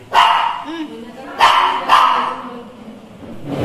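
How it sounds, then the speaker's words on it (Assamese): A dog barks several times in short, loud, close bursts at a relative's house, with a few quick yips in between and people talking over it. "এলিক তো চিনিয়ে পাইছে তাই ভুকিয়ে আছে"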